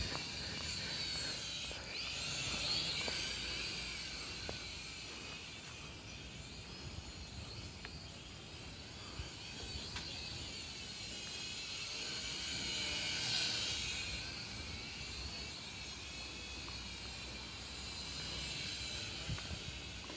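A Blackhawk SQ800C manual drone with no altitude hold flies nearby, giving a steady high-pitched rotor whine with broadband hiss that swells and fades slightly as it moves, continuous for the whole stretch with no talking.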